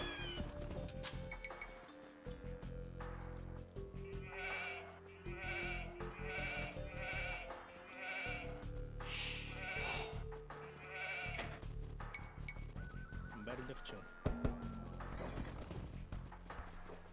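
Sheep in the Age of Empires II game bleat several times in short calls over a steady musical soundtrack and in-game effects, with a sharp click near the end.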